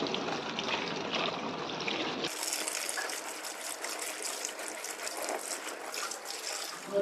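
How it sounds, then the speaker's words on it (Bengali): Taro leaf stalks are rinsed in water, producing continuous splashing and running-water noise that shifts abruptly to a brighter, thinner wash partway through. "এবার আমি এটা পরিষ্কার করে জলে ধুয়ে নিচ্ছি"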